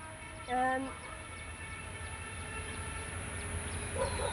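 A train passing a station among crowds of people, a low continuous rumble with a brief horn-like tone near the start and faint distant clatter, moderately quiet.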